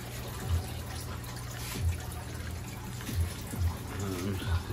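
Water trickling and draining through a basement hydroponic Dutch bucket system fed by a reservoir pump, a soft continuous splash with faint low thumps, heard under someone talking.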